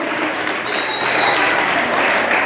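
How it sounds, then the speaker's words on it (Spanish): An audience applauds children at a Day of the Dead costume contest with steady, full clapping that swells slightly midway, loud and continuous with a high whistle briefly cutting through. "Ese aplauso que se escuche, hijos."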